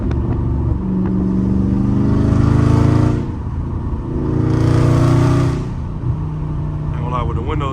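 Dodge Charger Scat Pack engine heard from the cabin with the windows down, revving in two loud sustained bursts over a steady idle rumble, with a voice briefly audible near the end.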